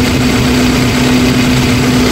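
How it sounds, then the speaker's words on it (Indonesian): A Suzuki Carry 1.5 pickup truck engine idles steadily with a smooth, even low hum and no roughness or sputtering, close by and continuous. "Mesin kering, suaranya halus, tidak suara kasar"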